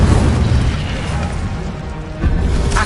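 A fiery Incendio spell blast in a Hogwarts video game bursts out as a loud, close whooshing boom with a rumbling tail and a second flare near the end.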